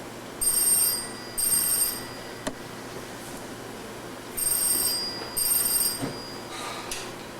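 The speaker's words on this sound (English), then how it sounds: "the telephone ringing" A telephone rings during a stage performance of Noel Coward's Design for Living, giving two double bursts of bright electronic ringing with pauses between, plus a faint sharp knock midway through.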